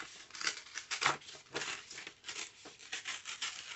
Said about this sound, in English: let's just start in here ripping